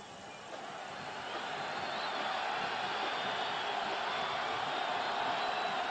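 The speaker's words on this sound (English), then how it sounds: "The crowd trying to help the CU defense now." A football stadium crowd at a 1991 Colorado vs. Kansas college game roars in a steady wash of noise, swelling slightly after the first second and then holding loud and sustained.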